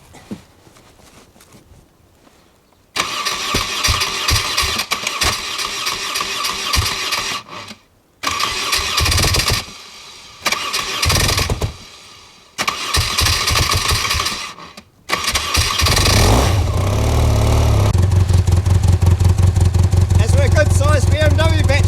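A motorcycle engine starts with a sticking choke lever, cranking in several loud bursts broken by brief pauses before catching and settling into a steady, close idle and rev.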